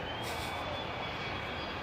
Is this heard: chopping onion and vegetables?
no